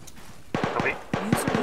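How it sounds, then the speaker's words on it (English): Gunfire in the ArmA3 combat game comes as a handful of sharp reports in two short clusters after a quiet start, mid-distance and fairly loud, with soft voice chatter underneath. "Nope, that was actual gunfire."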